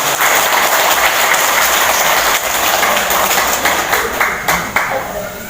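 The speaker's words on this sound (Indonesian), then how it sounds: "Tepuk tangan untuk kita semua." Audience clapping at a Bali Happy Movement gathering, a steady mass of applause with some louder nearby claps toward the end and faint voices mixed in.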